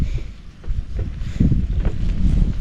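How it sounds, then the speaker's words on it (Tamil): Strong wind gusting against a tent pitched in a forest at night, a steady rushing roar with buffeting flaps and surges that swell louder toward the end, close to the microphone. "அந்தளவுக்கு செம்ம காத்துன்றங்களே."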